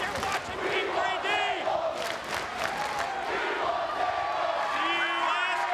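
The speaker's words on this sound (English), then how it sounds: "Listen to this crowd. They want tables." Wrestling arena crowd at a TNA Genesis 2005 event roars continuously, a dense wall of cheering and rhythmic chanting for tables while Team 3D stands in the ring, loud and sustained throughout.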